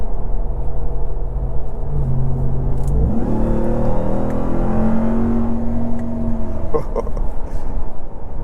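A 2023/2024 RAM 1500 TRX Havoc Edition engine revs hard with a supercharger whine rising in pitch, loud and close, the roar building and shifting through gears without pause.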